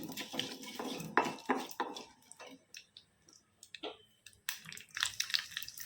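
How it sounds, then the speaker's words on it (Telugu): Spices for a tempering crackle and pop in hot oil in a pan for an onion and egg curry, heard as quiet, irregular bursts of spitting and clicking with small utensil clatters between them. "పోపు దినుసులు వేగుతున్నాయండి"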